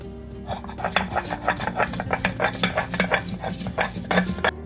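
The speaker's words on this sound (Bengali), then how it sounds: "আমি পেঁয়াজটা আবার বেটে নেবো" Raw onion being ground to a paste for a prawn and jackfruit curry, a steady run of rhythmic scraping and grinding strokes, close and fairly loud, with no talk.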